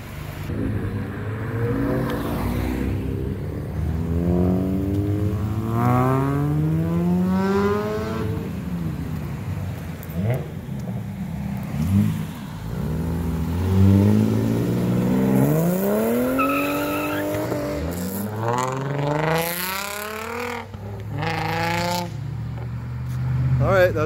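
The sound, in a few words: cars accelerating, chasing a Mazda RX-8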